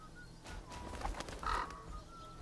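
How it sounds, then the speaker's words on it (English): Crows caw a few times in the video game Memoria, short harsh calls over a low ambient background, with the loudest call near the end. "Blasted crows."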